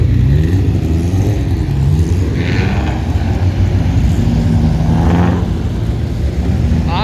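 A small classic Lada race car roars past on a narrow circuit, its loud engine note droning steadily with other racing engines rising and fading in the background.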